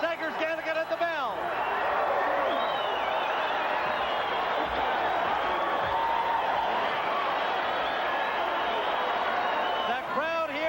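Boxing crowd at the Aladdin Hotel roaring and cheering on its feet after a knockdown, a dense sustained wall of voices with whistles, loud and continuous throughout, with a commentator's voice near the start and end.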